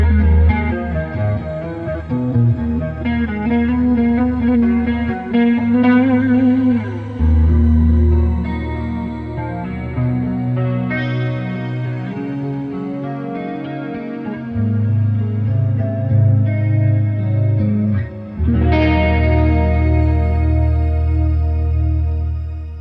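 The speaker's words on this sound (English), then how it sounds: "So there you get an impression of how it sounds on the clean channel." An electric guitar through the clean channel of the NeuralDSP Archetype Petrucci plugin plays sustained chords and melodic lines with chorus and echo shimmer, loud and close, with no voices.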